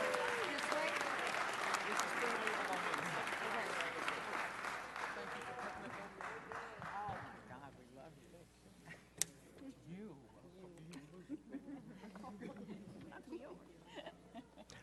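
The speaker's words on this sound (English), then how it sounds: "give her one more round of applause" Applause from a city council meeting crowd fills the opening seconds, loud and dense, then thins into scattered claps and murmuring voices.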